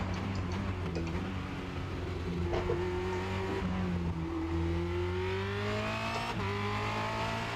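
A Formula Renault 2.0 race car brakes and downshifts on the Charlotte Motor Speedway Roval, heard from onboard as a loud engine drone whose pitch drops and jumps with several gear changes and rises again.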